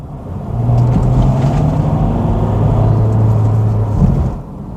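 A Mercedes ML320 SUV engine pulls hard on kick-down, a loud steady rumble with a rising tone heard from inside the cabin, easing off at the end, with no talking.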